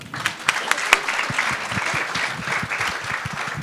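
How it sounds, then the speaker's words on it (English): An audience at a talk on women succeeding in male-dominated industries gives a round of applause, a crisp spattering of claps with a few sharp close hits, steady throughout. "Round of applause."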